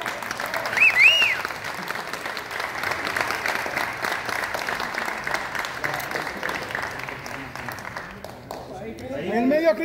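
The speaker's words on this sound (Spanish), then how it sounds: "Fuerte el aplauso para Cristian de la Fuente." A live audience at a cast presentation for the telenovela "Perfume de Gardenia" gives steady, moderately loud applause for several seconds. A voice cuts in briefly, and the clapping fades toward the end.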